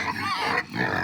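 Farm pigs grunting on a hot, dry day, a couple of short, close snorting grunts in quick succession, moderately quiet.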